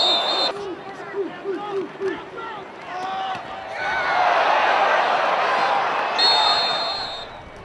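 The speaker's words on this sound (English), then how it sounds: "Also getting a loud welcoming cheer was new recruit Nick Montana." A crowd at a University of Washington Huskies football game roars a loud welcoming cheer for new recruit Nick Montana, a broad sustained stadium swell with a commentator's voice over it.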